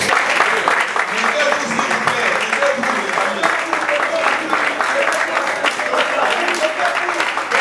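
Applause from an audience at a political speech in the Congo, a steady dense wash of clapping and crowd noise that fills the whole stretch at a fairly loud, even level.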